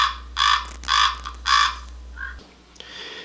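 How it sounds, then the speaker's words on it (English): Ravens give a series of hoarse, croaking caws, three loud evenly spaced calls followed by a softer, rougher one, close and clear over a low background hum. "So I queued up an example here of how ravens sound."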